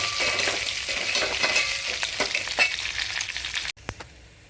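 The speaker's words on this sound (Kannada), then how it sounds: "ಈಗ ಇದು ಎರಡು ನಿಮಿಷ ಲೋ ಫ್ಲೇಮಲ್ಲಿ ಹುರ್ಕೊಳ್ಳಿ" Rasam ingredients with curry leaves frying in oil on a low flame, a steady crackling sizzle with occasional stirring scrapes that drops off sharply near the end.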